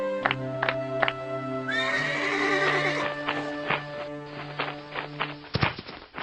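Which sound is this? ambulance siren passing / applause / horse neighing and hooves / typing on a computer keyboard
horse neighing and hooves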